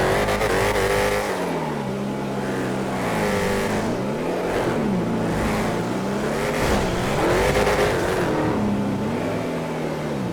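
Peyote Gasser car in a GTA FiveM race, its engine revving loudly and close, rising and falling through repeated gear-change swells over about ten seconds, with no voices.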